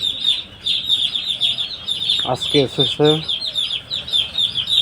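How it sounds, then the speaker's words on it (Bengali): Many day-old broiler chicks chirp continuously in a dense, high-pitched chorus at a poultry farm, with someone briefly speaking over them near the middle. "শুনতে পাচ্ছেন আপনারা চিউ চিউ চিউ শব্দ? কিসের শব্দ? মুরগির বাচ্চা।"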